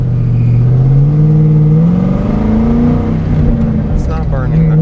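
A Ford Mustang Mach 1 with a manual gearbox revs loud and close, its engine tone climbing and dipping steadily while people talk over it.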